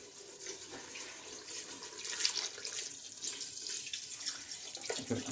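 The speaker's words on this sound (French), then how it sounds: "Donc là, on va couvrir la viande d'eau chaude." Hot water streams steadily into a pot of seared meat being prepared for couscous, a soft continuous pouring and splashing sound heard close up without speech.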